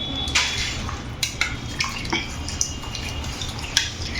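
A prawn rice mixture for kolambi bhat is stirred in a pot, with a steady soft sizzle under repeated scraping and clinking from a spoon against the metal.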